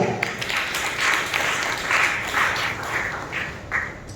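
A church congregation applauds loudly at an evening worship service after Christmas, a sustained burst of clapping in uneven waves that rises and falls for several seconds, with faint voices underneath.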